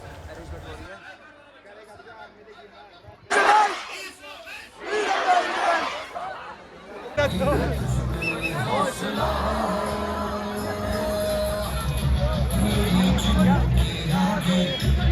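A large, noisy crowd at an educational event in Kashmir, loud overlapping chatter and shouting with bursts of cheering and laughter, shifting from a quieter stretch into a dense, continuous roar of voices.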